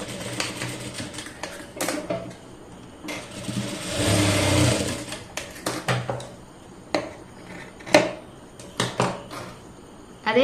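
A sewing machine stitches the shoulder seam of a blouse with a half-inch allowance, its motor whirring in close, uneven bursts with a louder sustained run midway and scattered clicks and taps from handling the fabric.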